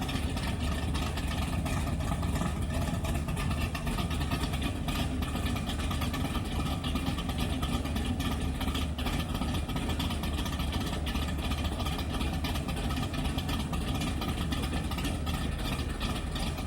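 A long-wanted dream car's engine idles steadily after start-up in a garage in Knoxville, Tennessee, a constant deep rumble with no change in pitch or loudness.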